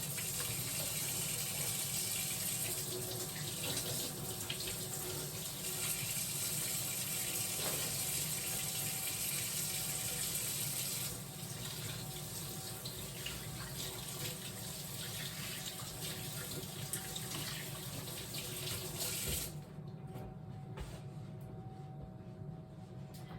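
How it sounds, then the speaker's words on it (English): A running sink faucet while someone washes their hands, a steady close rush of water lasting about twenty seconds before cutting to quieter room tone. "I'm just gonna wash my hands real quick."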